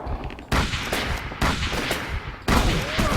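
Bursts of loud gunfire in rapid volleys in the video game Call of Cthulhu: Dark Corners of the Earth, several separate salvos starting and stopping abruptly, close and harsh.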